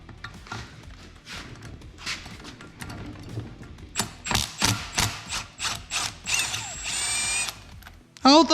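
A socket wrench ratchets in quick, rapid clicking bursts on a stuck bolt on a 6.7 Cummins, the bursts growing louder and denser toward the end, close and mostly free of talk.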